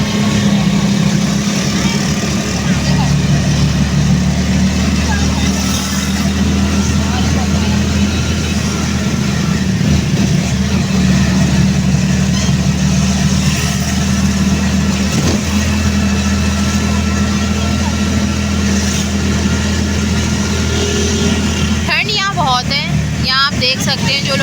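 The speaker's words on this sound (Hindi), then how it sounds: "और मैं भी खुद आई थी तो हम लोग इस वक्त चिंची में ही हैं।" A chingchi motor rickshaw engine runs steadily in a busy Kasur market, a loud, close, continuous low drone with traffic and street noise around it, while people talk over it throughout.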